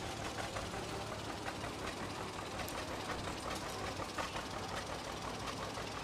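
An old John Deere tractor engine runs steadily in a Fourth of July parade in Chautauqua County, a dense continuous chugging amid broad outdoor crowd noise with no clear talk.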